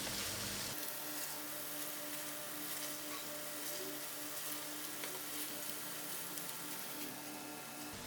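Paneer and pea curry with masalas simmers in a pan, giving a constant soft sizzle and bubbling hiss that starts abruptly and holds evenly throughout, with no talk.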